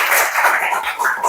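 A sixth-grade class applauds everyone in a sustained burst of dense group clapping from many small hands in a classroom, fairly loud and steady for its whole short length.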